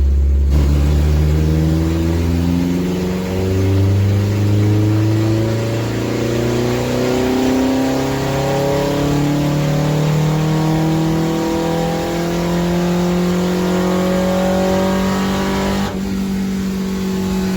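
Car engine accelerating hard through a third-gear pull from about 2,000 to 6,000 rpm, tested at factory trim before a ram air intake is fitted; a loud, steadily rising engine note climbs for about sixteen seconds, then drops off abruptly.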